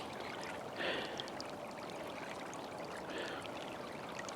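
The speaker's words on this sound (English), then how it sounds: "Just this little bit of this creek's open." A small creek, mostly frozen over with one open stretch, trickles and burbles steadily close by, a soft continuous flow with a couple of slightly louder splashy moments.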